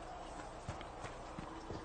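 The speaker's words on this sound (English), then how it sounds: "Can I call my horse here?" Horse hooves clip-clop in Dragon Age: Inquisition, a few soft, irregular thuds over a steady wash of background noise, fairly faint and with no voices.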